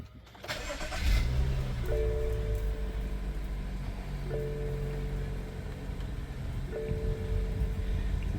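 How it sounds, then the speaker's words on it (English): A BMW with a ZF 8HP automatic transmission starts up indoors: a short starter crank catches into a loud flare, then settles into a steady low idle, with faint repeating electronic chimes sounding at intervals. "start the car."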